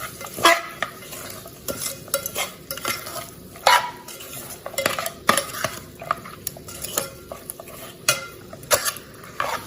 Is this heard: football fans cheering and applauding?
no